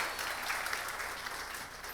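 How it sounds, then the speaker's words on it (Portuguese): Audience applause at a live gastronomy event in Paraíba: steady, dense clapping from a crowd, fairly distant and even throughout the short burst. "Então, gente, uma salva de palmas."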